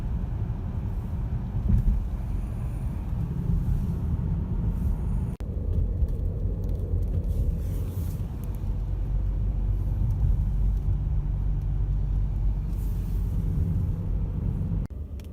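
A Volkswagen driving around streets near a mall gives a steady, close low rumble of engine and road noise from inside the car, with some wind buffeting and no talking.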